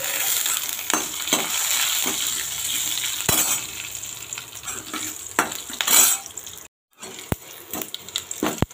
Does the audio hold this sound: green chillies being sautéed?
yes